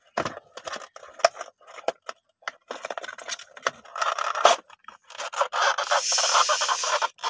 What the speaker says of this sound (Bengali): আমরা আনবক্সিং করব। প্রথমেই ছাড়িয়ে নিব, অনেক টাইট হয়ে গিয়েছে।